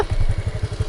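A scooter ridden by a learner putters close by, its small engine making a rapid, even, thumping pulse for a brief moment.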